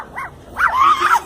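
A person imitates a dog barking in Soledad, Atlántico: one short yip, then a longer, louder run of whining barks, close and alone, with no other talk.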